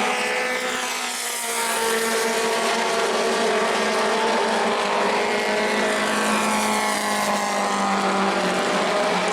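A Mod Mini race car engine runs steadily on a racetrack, a continuous loud drone with slowly shifting pitch that holds for the whole stretch without pause.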